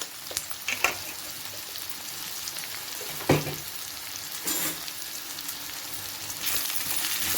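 Raw banana pieces being stirred in a pan for a crispy fry, a soft continuous sizzle broken by a few scraping strokes of the spatula.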